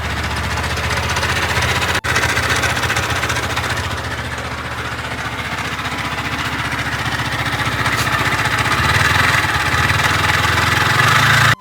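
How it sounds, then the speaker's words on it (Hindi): A broken-down motorcycle engine idles steadily and loudly up close, with a rough, uneven knocking rattle running through it. "तो भी आप लोगों ने देखा इंजन में कितनी अजीब सी आवाज़ आ रही है"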